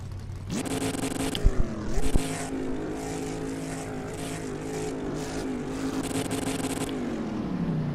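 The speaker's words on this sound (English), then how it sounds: "I guess I'll know when I rev the engine." A car engine idles and then revs, with a rising roar that holds steady and several throttle blips, close and prominent. A few sharp knocks are mixed in early, and there is no talking.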